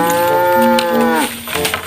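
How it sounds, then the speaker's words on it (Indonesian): A cow gives one long, loud, close moo with a strong tonal pitch that bends downward and breaks off near the end, followed by brief softer rustling. "ini ada sapi warna merah dan putih"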